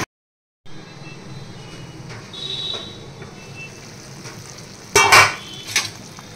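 Food simmers in a pan on the stove with a soft, steady bubbling, then a lid is set on with a brief metallic clatter near the end, followed by a smaller clink.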